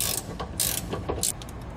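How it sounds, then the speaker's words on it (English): A wrench ratchets on the nuts of a Dexter electric trailer brake assembly, giving quick, close metallic clicking strokes in several short bursts. "you may need to use a wrench to get these ones off down here."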